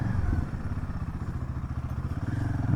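A motorcycle pulls away at the start of a long road trip from Rajgangpur toward Puri, its engine thumping in a steady, pulsing rhythm close by and fairly loud, with no talk over it.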